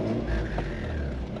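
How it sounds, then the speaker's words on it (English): An overland vehicle with a badly leaking exhaust drives steadily nearby, a continuous low rumble with a faint whining tone running over it, brief and fairly quiet. "This thing's got the wicked exhaust leak, and it literally sounds like George Jetson's car."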